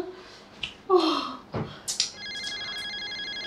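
A telephone rings in a Bangla drama scene: a few brief sounds and voice-like noises come first, then a steady, repeating electronic ringtone runs to the end.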